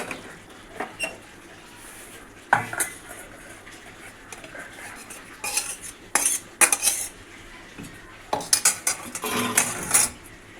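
Rohu fish curry with tomato and coriander is tipped out of a pan, scattered metallic scrapes and clanks of a spoon and pan come in bursts with quieter gaps, close by and without talk.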